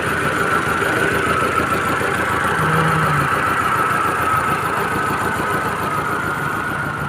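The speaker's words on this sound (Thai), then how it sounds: "มาดู นะครับ เครื่องยนต์ของคันนี้นะ" A Ford Fiesta car engine runs at idle, a loud steady close hum with fine rhythmic ticking and no talk.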